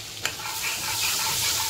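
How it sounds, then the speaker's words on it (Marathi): Butter melts in a pan with a soft, steady sizzle, opening with a single clack of a spoon or pan before the gentle hiss settles in. "नुसतं हे वितळवायचं आपल्याला बटर।"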